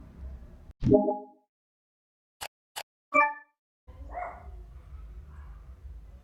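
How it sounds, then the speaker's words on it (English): Two loud dog barks and yelps, separated by sharp clicks and a gap of silence, followed by a low growling scuffle. "The dogs are fighting."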